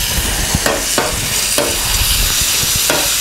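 Garlic sautés in hot oil in a pan for Filipino-style picadillo, a steady close sizzle with several short scraping stirs at regular intervals and no talk.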